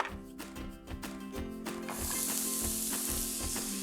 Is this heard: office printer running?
no